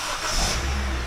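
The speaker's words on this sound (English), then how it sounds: "Now if I press and hold, it will remote start the car." A 2012–2015 Honda Civic engine starts by remote start and settles into a close, loud revving burst and then idle.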